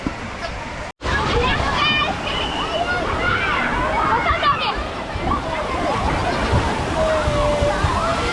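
Water sloshes and splashes at a busy water park. The churning, rushing water is continuous and fairly loud, with crowd babble mixed in and a short dropout near the start.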